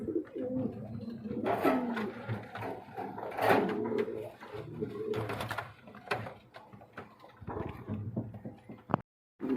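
King pigeons coo in a series of soft, low, throaty calls, close by, with rustling and other bird sounds mixed in and a brief gap near the end.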